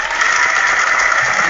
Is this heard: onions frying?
no